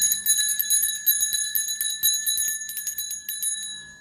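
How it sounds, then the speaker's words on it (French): A bell rung for a sound bath chimes again and again in quick, bright strikes, its sustained metallic tones layering into a continuous shimmering ring, close and fairly loud. "je pensais à vous faire un bain de cloche, un bain de son"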